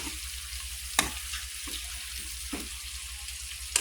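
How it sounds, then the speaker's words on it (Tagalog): Food sautés in a pan with a steady soft sizzle, broken by occasional sharp clanks of a utensil stirring against the pan, with no talking. "ako siyang sigisa guys, ako na sigukay para muhumok siya"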